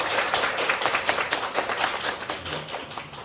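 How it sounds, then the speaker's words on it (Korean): Applause from an audience at a public citizens' meeting, a dense, steady patter of many hands clapping together throughout, close and fairly loud with no talk. "다 같이 한번 박수 한번 해주시면 좋겠습니다"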